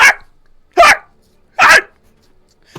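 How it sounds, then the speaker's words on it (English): A dog barks loudly and close by, three sharp barks spaced evenly apart, with a fourth starting at the end. "as this barking erupts around you"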